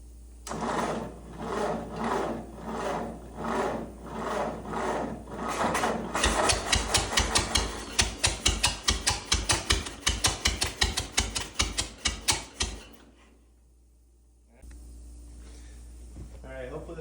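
Old Ford engine cranking slowly on a weak battery while trying to start, rhythmic labored chugs that speed into rapid sharp pulses, then stop into quiet.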